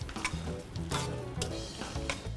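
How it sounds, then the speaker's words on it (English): Pasta tossed with Parmesan cheese and truffle oil in a pan, a steady soft sizzle with repeated scraping and stirring strokes, close and continuous with no talking. "Next, I'm going to give this a beautiful mix."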